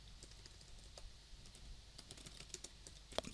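Steady typing on a computer keyboard while writing HTML, with a continuous run of soft, fast key clicks and one sharper tap near the end.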